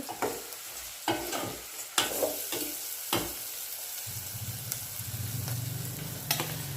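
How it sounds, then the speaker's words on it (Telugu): Bitter gourd pieces being stirred in a pan, a string of distinct scraping and knocking strokes of a spatula, then a softer sizzle rising toward the end, no voices. "కాకరకాయ ముక్కలు ఇందులో వేసుకొని కొద్దిగా మగ్గేంత వరకు కలుపుకోవాలి"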